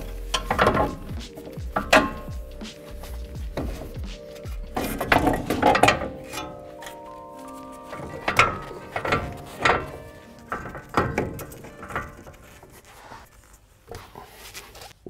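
A hand ratchet clicks in repeated bursts while loosening and removing the upper strut nuts on a 2021-2023 Ford F-150 during a leveling kit install, close and loud with short pauses between runs.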